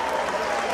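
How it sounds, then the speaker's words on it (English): Football fans cheering in Rapid's new stadium in Romania, a dense, steady roar of crowd noise with no breaks across the short moment. "People are cheering."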